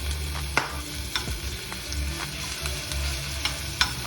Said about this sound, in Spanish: Echamos un poco de aceite en el sartén y echamos a freír